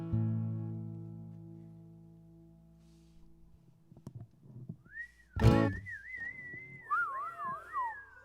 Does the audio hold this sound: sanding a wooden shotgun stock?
no